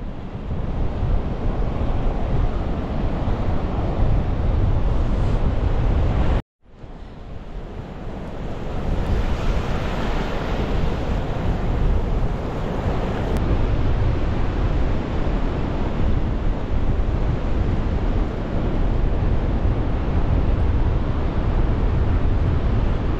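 Loud, continuous surf rolls in on the beach at Kessingland, heavily mixed with wind buffeting the microphone, with one brief dropout partway through before the roar resumes.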